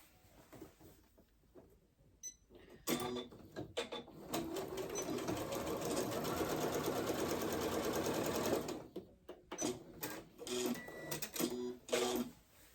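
A sewing machine stitches pajama pant fabric with right sides together. A few clicks and handling noises lead into a steady run of fast, even stitching lasting about six seconds, followed by more scattered clicks and rustles.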